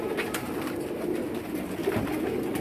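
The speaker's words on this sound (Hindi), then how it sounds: "ये इनका जी एक और है पट्टी वाला कबूतर" A banded pigeon, a striped fancy breed kept by pigeon hobbyists in Pakistan, coos in soft, steady low murmurs, close by, with a faint rustling background and no talk.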